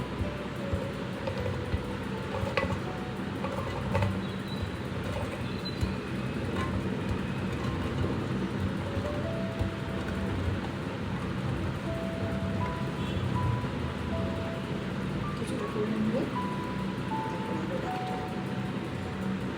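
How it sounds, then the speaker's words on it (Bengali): A kitchen mixer grinder blends boiled chickpeas for hummus, giving a steady, loud whirring drone that runs unbroken from start to finish with no talking. "এবার একটা মিক্সির বাটির মধ্যে আমি এইগুলো দিয়ে দেবো"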